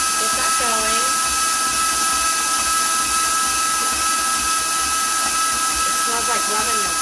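Electric mixer whirring continuously and loudly through apple almond rum cake batter, a steady high motor whine with a voice talking faintly beneath it.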